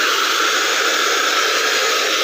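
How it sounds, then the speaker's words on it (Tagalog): A pet blower roars steadily while drying a small Maltese dog, a loud continuous rushing hiss with no breaks, close by. "at may blower pa pala."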